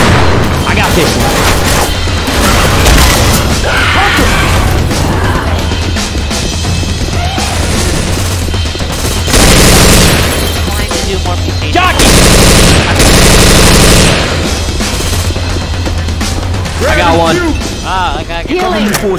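Loud, dense bursts of automatic gunfire and heavy booms from Left 4 Dead 2 in a gun game mutation mode, repeated in rapid volleys, with players talking over the shooting.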